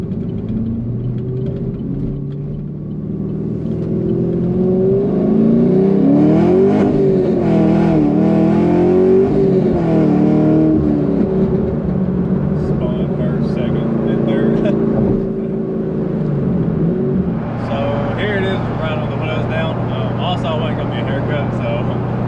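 A 2014 Chevrolet Camaro Z28 accelerates hard on 325 rear tires, its engine rumbling and rising in pitch through a gear change, heard loud from inside the car while someone talks over it.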